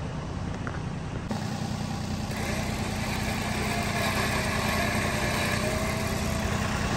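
A tractor engine runs steadily nearby on an incline, idling with a constant droning hum that rises slightly after a moment and keeps going.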